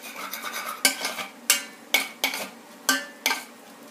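Rhythmic scraping of a utensil stirring egg larb with vegetables in a pan, about six distinct strokes with faint sizzling between them.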